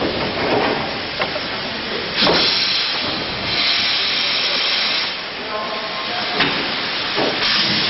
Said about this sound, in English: Kevin Stuffler draws a visiting B12 460 onto the turntable.